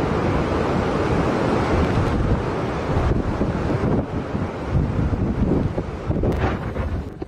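Howling wind and heavy rain from Cyclone Dovi lashing New Zealand's North Island, a loud, unbroken roar of gusts buffeting the microphone with a constant rushing wash throughout.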